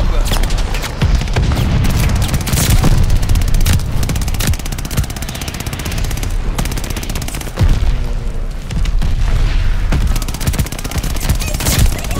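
A grenade goes off in a Call of Duty Vanguard multiplayer match on the Sub Pens map, buried in a constant loud barrage of gunfire, machine-gun bursts and booms, with someone talking over the battle.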